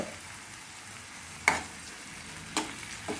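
Ground green chili paste with ginger, coconut and cinnamon frying in a pan, a soft steady sizzle with a few sharp scrape or stir clicks, no talking.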